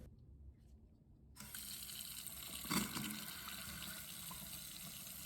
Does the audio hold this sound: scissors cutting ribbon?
no